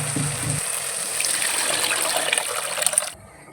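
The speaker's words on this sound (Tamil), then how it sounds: "இப்போ புளி தண்ணி ஆட் பண்ணிக்கலாம்" Tamarind water pours steadily into a pot of fish curry with a rushing splash for about three seconds, then stops abruptly.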